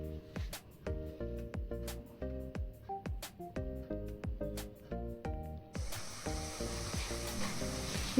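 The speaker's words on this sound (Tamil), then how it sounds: "அந்த பேஸ்ட்டும் இது கூட சேர்த்துட்டு நல்லா எண்ணெயில் நல்லா வதக்கிக்கலாம்" Methi paste sautéing in hot oil for a methi pulao, a steady soft sizzle beneath louder, steady background music.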